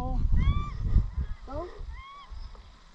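Wild ducks or geese honk in a few short calls from a flock during a New Zealand duck-shooting outing, fairly close, with people talking and rustling movement around them.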